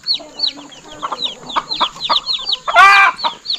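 Several chickens near a nest in a rural Indonesian yard cluck in quick, close, repeated bursts, followed by one louder squawking cackle, with no talk over them.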